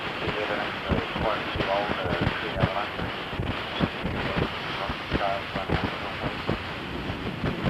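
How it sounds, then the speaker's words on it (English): Strong, gusty wind buffets the microphone continuously on a boat deck, with a low rumbling drone underneath. "I don't know whether you can hear the wind in the background."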